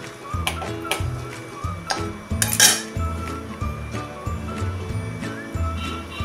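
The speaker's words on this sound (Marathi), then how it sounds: "आता ही साखर आपण या शिऱ्यामध्ये चांगली मिक्स करून घेऊया" Sugar being stirred into mango semolina shira in a pan, a spoon scraping and clinking against the metal in a steady repeated rhythm, close and fairly loud, with a low hum underneath.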